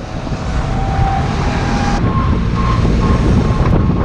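Strong winds of around 30 mph blowing outdoors in freezing weather, a loud, continuous rushing roar buffeting close to the microphone with a faint steady mechanical drone underneath, no talking.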